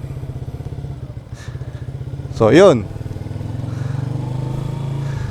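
A motorcycle engine in first gear putters steadily at low revs with a regular pulsing beat, a brief louder rev in the middle, while someone talks over it.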